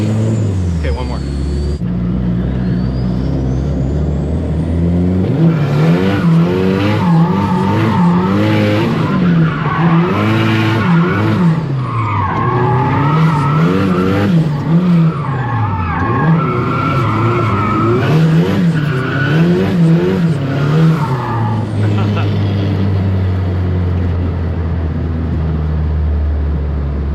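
Long, loud squealing of car tyres skidding on a street, with wavering pitch sweeps as the car slides and turns, engine rumble underneath and a voice talking over parts of it.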